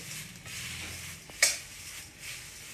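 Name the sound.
frying drumstick leaves in pan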